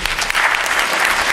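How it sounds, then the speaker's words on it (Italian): Loud, thick applause from a queer film festival audience at a screening, a continuous roar of many hands close by with no gaps. "Un applauso."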